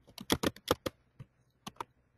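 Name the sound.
typing a name on a computer keyboard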